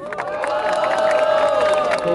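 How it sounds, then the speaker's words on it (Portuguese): A live crowd at a Brazilian freestyle rap battle cheers and shouts for one of the rappers during a noise vote. The roar is dense and sustained with overlapping voices throughout. "Barulho pra quem gostou das rimas de Spratz."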